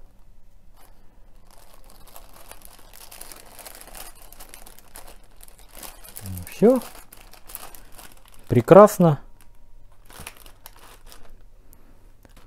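Plastic bags of microgreens crinkle and rustle in a few short bursts, close by, with a brief spoken word in between.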